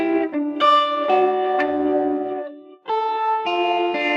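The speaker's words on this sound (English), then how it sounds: "it seems a bit of distortion as well, or saturation, and the delays are jumping from left to right" Audio plugin processing a melodic instrument line with distortion or saturation and a ping-pong delay bouncing echoes from left to right, a series of gritty sustained notes with repeating tails.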